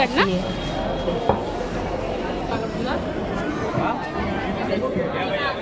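A packed Mumbadevi market in Mumbai hums with dense crowd chatter and overlapping voices. A few clinks and knocks rise out of the close, continuous babble.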